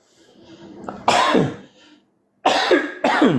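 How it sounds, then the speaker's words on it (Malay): Several coughs, one early burst followed by a quick pair of harsh coughs, close and loud with brief silences between. "Maaf batuk."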